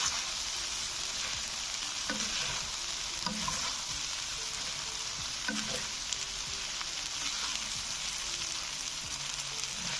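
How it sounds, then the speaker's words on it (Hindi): Masala chicken pasta is stirred and fried in a pan after a tablespoon of vinegar goes in, giving a steady, close sizzle with occasional stirring scrapes and no talking. "इसको अच्छी तरह मिक्स करेंगे"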